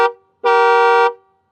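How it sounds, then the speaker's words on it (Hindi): A Mahindra XUV7XO car horn sounds from outside the vehicle, a brief toot cut off at the start and then one loud, steady blast of about two thirds of a second, close and alone. "सुनते हैं गाड़ी का हॉर्न कितना लाउड है बाहर की तरफ।"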